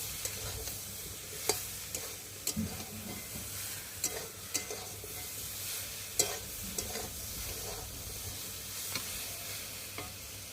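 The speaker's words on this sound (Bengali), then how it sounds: "ভালো করে কষিয়ে নিচ্ছি" Ginger and vegetables are stirred and sautéed in a pan for a vegetarian curry: a continuous moderate sizzle broken by frequent sharp spatula scrapes and clicks against the pan, with no talking.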